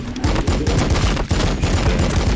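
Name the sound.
gunfire from Warhammer 40k Battle Sector video game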